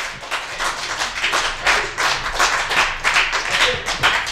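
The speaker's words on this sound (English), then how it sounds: "Give a round of applause for Johnny Cuevas!" A comedy club audience claps for comedian Johnny Cuevas. The clapping is quick and steady, with crisp individual claps packed together, and keeps going throughout.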